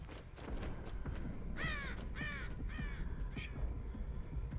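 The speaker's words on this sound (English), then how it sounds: "Fucking crows" Crows in the Dead by Daylight video game give a run of three or four harsh, drawn-out caws in quick succession, clear and fairly close over a steady low ambient hum, with no talk.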